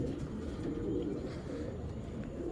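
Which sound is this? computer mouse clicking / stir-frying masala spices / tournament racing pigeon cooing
tournament racing pigeon cooing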